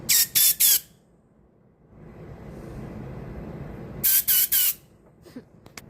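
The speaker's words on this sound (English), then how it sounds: "so I'm going to hit it with a little bit of compressed air" Compressed air blowing through a Honda GCV lawnmower engine carburetor: three quick loud hissing blasts, a pause filled with low rumbling, then three more sharp bursts close up.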